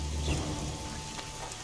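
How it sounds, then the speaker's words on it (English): Steady rain falling in the video game The Witcher 2, a dense continuous hiss of drops with a low rumbling undertone and no voices. "It's raining."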